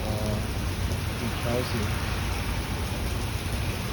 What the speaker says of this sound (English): the rain is getting even heavier